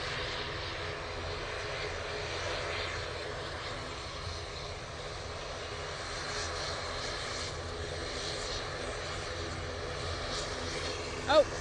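An ATR turboprop airliner drones steadily at an airport, a broad, even engine hum held at a moderate distance the whole time, with no sharp change in level.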